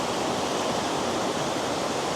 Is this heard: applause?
no